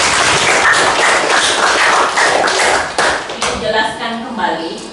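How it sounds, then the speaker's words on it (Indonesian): Steady, loud applause from a group of people clapping for a student after a teaching performance exam answer, dense continuous clapping that thins slightly toward the end. "Jadi tepuk tangan dulu buat Sudirman."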